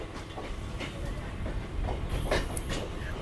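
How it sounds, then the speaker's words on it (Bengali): A Canning-bound train passes just after Park Circus station on the Kolkata circular railway, heard from aboard another train as a steady low rumble with faint rhythmic rail clatter, slightly louder toward the end. "আর একটা ট্রেন ক্রসিং হচ্ছে পার্ক সার্কাসের পরেই"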